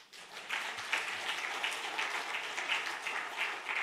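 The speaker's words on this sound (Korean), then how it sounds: "박수 한번 쳐줘요." A church congregation at an evening Wednesday worship service claps together in a steady, even wash of applause that sounds somewhat distant and fairly quiet, continuing for several seconds without voices over it.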